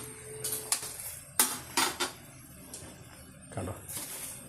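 Cooked Tamil Nadu style biryani rice being turned in a pot, with a spoon scraping and knocking against metal in several sharp clinks and rustles, fairly close and moderately loud.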